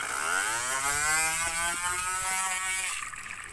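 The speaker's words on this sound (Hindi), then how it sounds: "अब्दुल्ला बेटा इधर पानी में रखिए आप बोट अपनी" A homemade toy motor boat set in water, its small electric motor whirring steadily and sliding in pitch, close and fairly loud, then dropping away near the end.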